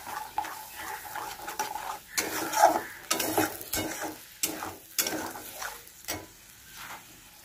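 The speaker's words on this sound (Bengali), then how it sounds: "বন্ধুরা, আমার এই মশলা হয়ে গেছে কষানো।" Mustard-coconut spice paste being sautéed in a pan, with a soft continuous sizzle under repeated scraping strokes of a spoon or spatula against the pan in an uneven rhythm, close and moderately quiet, no voices.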